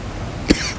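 A single short, sharp cough rises out of quiet background noise, close by and brief.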